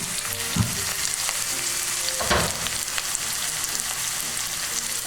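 Onion and garlic sautéing in a pan for ginisang ampalaya, a steady close sizzle with a couple of louder bursts as the food is stirred.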